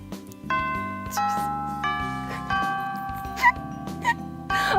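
A school bell chime rings in the Hatoful Boyfriend video game, a sequence of clear sustained tones stepping through a short melody, loud and alone.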